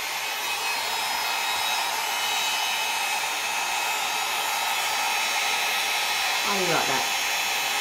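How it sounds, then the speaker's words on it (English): A blow dryer runs steadily while drying colored grey hair, giving a loud, continuous close-up whir throughout. A person speaks briefly near the end. "Love this blow dryer."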